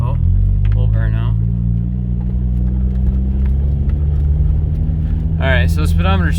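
The engine of a Nissan S13 240SX runs loud and close with a steady low drone and rumble, with a whir on top. Someone talks briefly near the start and again at the end.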